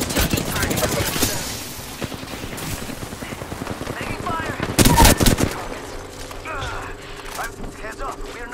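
Gunfire in the video game Apex Legends crackles in loud, rapid bursts throughout, mixed with mechanical clatter and a few heavier blasts, with a game voice speaking over the shots.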